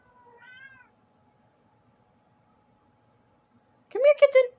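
A cat gives a faint, short meow, then after a quiet pause a louder, nearer meow that rises and falls.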